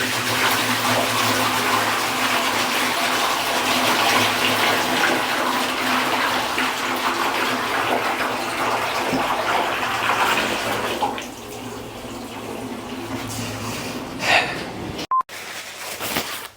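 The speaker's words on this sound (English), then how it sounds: "Yeah, that's too much water." Too much water runs and splashes in a workshop, a loud, steady gushing rush that holds for about eleven seconds, then eases off, leaving a softer trickle and a few knocks near the end.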